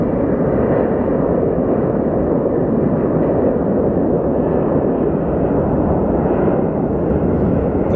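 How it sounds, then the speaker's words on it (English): A Southwest jet departs for Midway from Phoenix Sky Harbor Airport, its engines a loud, steady, broadband roar that holds unbroken from start to finish. "Our Southwest for Midway is ready to depart."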